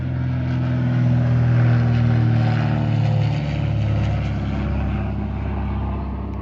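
An airplane passes overhead with a loud, steady droning roar that swells and then slowly eases, dominating throughout with no talk.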